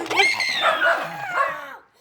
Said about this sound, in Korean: 근데 개 짖는 소리 때문에 안 되겠다